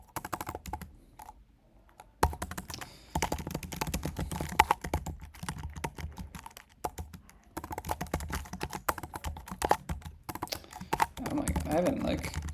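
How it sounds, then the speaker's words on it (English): Fast, uneven typing on a laptop keyboard while coding, clicky keystrokes in bursts with short pauses, close and clear throughout. "I haven't like done coding on just this laptop keyboard in like quite a while."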